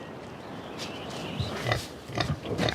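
Pigs on a regenerative organic farm grunt and oink in a short run of soft, scattered snorts, moderately close over a steady outdoor background, with no talk.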